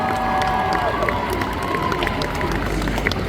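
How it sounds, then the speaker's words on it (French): A crowd at the Coupe de France de Cosplay final, part of the Japan Tours Festival, cheers and claps. It is a loud, steady mass of shouting and scattered applause, with a tonal whistle-like sound sliding through near the start. "Donc on peut l'applaudir également pour ça, notre Cosmisven national."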